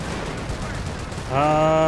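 Panzer Grenadiers firing StG assault rifles in Company of Heroes, a dense crackle of gunfire running throughout, with a louder sustained tonal burst joining near the end.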